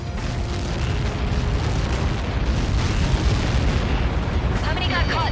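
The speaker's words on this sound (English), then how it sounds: "How many got caught in that explosion?" A massive blast from a missile impact in the Ace Combat flight video game, heard as a loud, sustained, rumbling roar that fills the whole stretch without pause.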